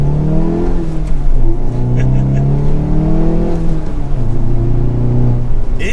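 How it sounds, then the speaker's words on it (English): A 2022 Hyundai Veloster N with six-speed manual, in sport mode with the exhaust valve open, revs loudly and close, its engine pitch climbing and falling through several rises with a deep rumbling exhaust note. "Let's go into the sport mode. Opens up the exhaust valve"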